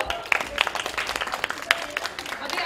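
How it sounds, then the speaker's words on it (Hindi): Children clap their hands in a scattered burst of applause, with crisp individual claps standing out against voices of the group in the background. "Clapping for him also."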